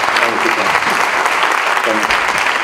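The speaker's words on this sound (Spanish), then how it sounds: "le damos un aplauso" An audience at a crime prevention conference applauds a speaker, dense and loud clapping that fills the room without a break.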